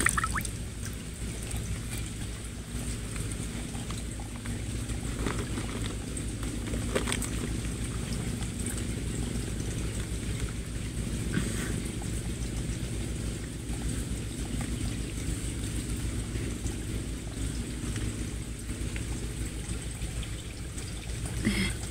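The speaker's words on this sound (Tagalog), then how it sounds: "may sapa dito" A mountain stream on a climbing trail to Dinagsaan Peak in Davao Oriental runs in a steady, soft, continuous rush of water, unbroken and faint, with no talk.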